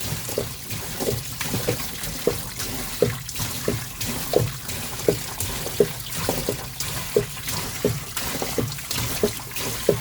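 Diesel fuel drains from the tank of a Mercedes W123 into a large bucket, a continuous close splashing pour with regular gurgling glugs and drips throughout.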